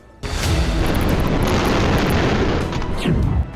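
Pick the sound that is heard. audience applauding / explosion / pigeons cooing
explosion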